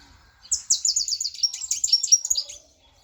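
A canary sings a rapid, bright run of trills and chirps lasting about two seconds, close and clear with no other sounds.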